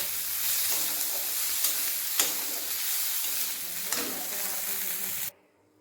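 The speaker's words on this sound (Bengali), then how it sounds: "চিংড়ি মাছ ভালোভাবে ভাজা হয়ে গেছে এরপর তুলে নেবো" Shrimp frying in hot oil in a pan for a Bengali patol chingri dish: a loud, steady sizzle with a few sharp stirring scrapes, cutting off abruptly just before the end.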